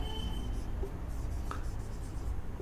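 A pen scratches across paper during a Class 7 maths lesson, soft and close, with continuous short strokes and a few small taps, under a low steady background hum, no voices.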